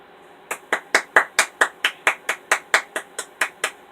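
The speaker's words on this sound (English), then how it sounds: "Did you like all the clapping?" A single pair of hands claps about fifteen times in a steady, evenly spaced rhythm, close and crisp, alone with no talking.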